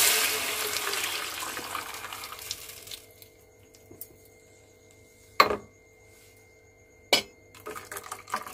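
Ground chilli spice paste thinned with water is poured into a pot for sambar made from leftover chutney. A wet, gushing pour lasts about three seconds and fades, followed by a few sharp metallic clinks of utensils against the pot.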